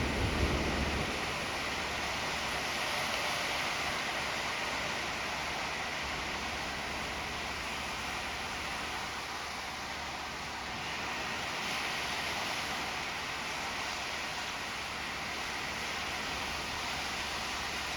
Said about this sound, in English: This is where I shut up and you get to hear the ocean.